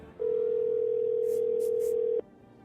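A telephone in the game No, I Am Not Human gives one steady, loud dial tone that holds for about two seconds and then cuts off sharply, with no talking over it.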